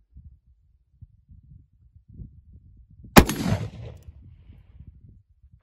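One loud, sharp report from a Bisley revolver firing a black powder .45 Colt round cracks out near the middle, trailing a short ringing decay over an otherwise quiet background with faint low rustling.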